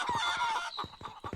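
Chickens cluck in a farming kingdom-building game, several short clucks over a steady background music bed.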